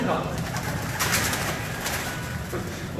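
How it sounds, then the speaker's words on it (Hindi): Pigeons coo softly and repeatedly close by, with a murmur of voices and ambient noise in the background. "और इस वक्त हम इनके कबूतर भी आपको दिखाते हैं"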